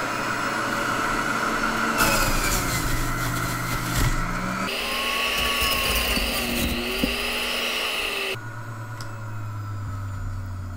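An electric juicer grinds cucumbers and celery in a loud, continuous whir whose pitch shifts in distinct steps as produce is fed in and settings change, easing down near the end.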